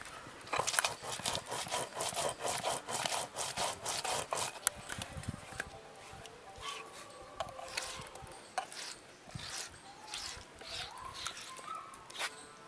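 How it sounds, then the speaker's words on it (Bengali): Cumin seeds and green chillies being ground together on a flat grinding stone, with a steady, close rhythmic scraping and rubbing of the stone that eases off somewhat toward the end. "জিরে আর কাঁচা লঙ্কাটা একসঙ্গে বেটে নেব।"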